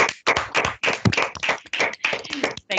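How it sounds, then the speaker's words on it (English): A few people clap their hands after an online talk on genetic prediction methods, irregular close taps in short bursts and gaps, heard in a brief, uneven patter. "We can just clap our hands a little bit, even if we cannot see it."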